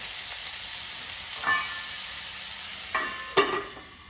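Vegetables such as onion, potato, carrot and green chili for poha fry in a pan over a medium flame, a steady soft sizzle broken by a few sharp stirring scrapes, with no voices.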